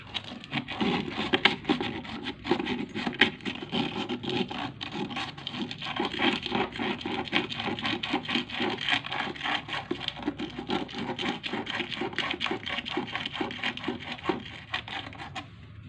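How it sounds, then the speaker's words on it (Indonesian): Rapid, continuous scraping of sandpaper against a metal pipe during a freezer box repair, close and fairly loud, with gritty back-and-forth strokes throughout and no talking. "untuk pipa ini kita amplas dulu nih"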